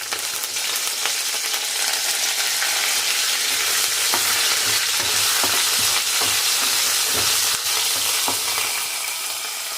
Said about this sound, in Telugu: కొంచెం ఆవాలు, మినప్పప్పు, శనగపప్పు వేసుకొని ముందుగా వేపుకుందాం